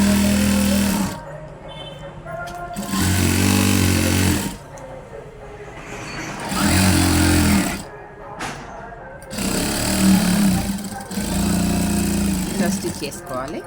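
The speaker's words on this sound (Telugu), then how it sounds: "ఇలా పైనుండి స్టిచ్ చేసుకుంటే నీట్గా ఉంటుంది ప్యాంట్." A sewing machine stitches a pair of pants in several loud, steady bursts of whirring, each lasting a second or two. A person talks in the pauses between the runs.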